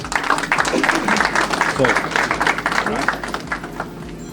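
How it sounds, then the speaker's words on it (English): Audience applause at the launch of a Vaisakhi 2024 magazine issue: a steady, dense patter of many hands clapping for the whole stretch, with voices talking over it. "I like to give him a big round of applause"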